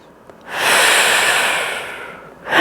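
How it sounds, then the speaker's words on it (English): A single long, deep breath during a slow yoga flow, one close, loud airy exhale rising and holding for about two seconds, with the start of another breath at the end; no talking. "One more breath."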